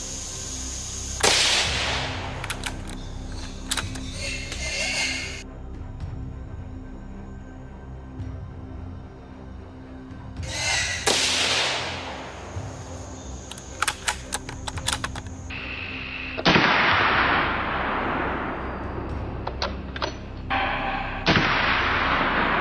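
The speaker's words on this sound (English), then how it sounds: "A clean, controlled shot stopped the hog and prevented it from making another destructive step." Gunshots ring out during a wild boar hunt in a swamp, several sharp loud cracks with long ringing decays, spread across the stretch, mixed with dense clattering and no voices.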